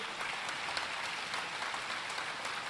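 Loud, sustained applause from an audience at a Hindu devotional gathering, dense steady clapping that fills the whole stretch without pause.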